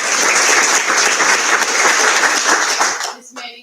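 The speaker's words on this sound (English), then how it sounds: "Big round of applause." An audience at a school district board of education meeting claps in a dense, close burst of applause that holds for about three seconds before fading, followed by a voice speaking.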